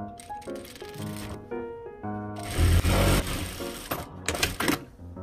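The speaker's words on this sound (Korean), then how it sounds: "이런 식으로 일자로 최대한 이렇게 내려서 박음질 해주셔야 돼요" A sewing machine stitching the straight underarm seam of a drop-shoulder T-shirt sleeve: close, rattling mechanical whirs in short bursts, with a louder, faster run in the middle and brief stops between.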